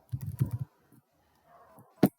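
Quick bursts of computer keyboard typing while building an Excel dashboard, a rapid cluster of key taps, a pause with a few faint clicks, then one sharper keystroke, quiet and close.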